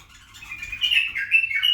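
Iraqi ghandour pigeons calling, a series of high chirping and squeaking notes that grow louder and repeat in short bursts.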